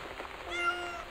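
A cat meows, a short tonal cry rising over faint background rain-like patter, close and moderately quiet.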